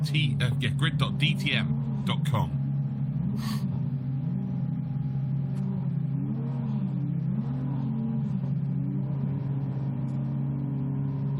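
Lotus Cup race car engines rev hard at the Zolder circuit as a race starts, loud and sustained with rising and falling pitch sweeps, opening with a few sharp bursts and continuing as a steady roar throughout.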